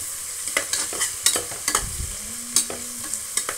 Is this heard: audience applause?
no